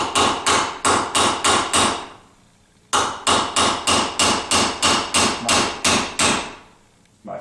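A punch driven with a hammer to separate a U-joint from a 1976 Corvette half shaft: a close, loud run of about seven sharp metallic blows, a brief pause, then roughly eight more evenly spaced strikes.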